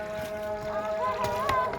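A small boat moves across a village pond, a low rumbling drone with a faint wavering tonal whine and water wash, up close, with a voice briefly heard.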